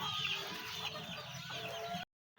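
Gamefarm chickens and roosters in a backyard, dense overlapping clucking with crowing calls, fairly near and continuous before cutting to silence near the end.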